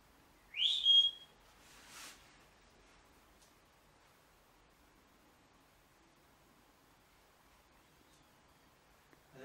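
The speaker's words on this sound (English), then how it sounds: "I'm going to whistle in this room right now." A person whistles briefly inside a garage, one short rising whistle with a softer follow-up note, then near silence with faint rustles and ticks.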